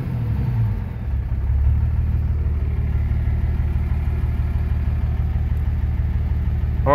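2006 Dodge Ram 2500 with a transmission fault idling in gear with the foot on the brake, a steady low engine rumble that sags slightly and settles into a heavy, labored hum.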